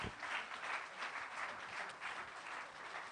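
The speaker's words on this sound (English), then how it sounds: "One round of applause, please, ladies and gentlemen" An audience at an alumni meet claps in a round of applause, steady, dense clapping heard from a distance at fairly low level, sustained for the whole stretch.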